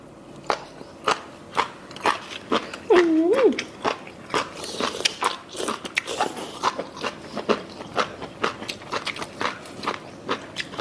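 Close, crisp crunching bites of spicy jellyfish repeat steadily with wet chewing between them, and a brief high vocal sound rises in the middle.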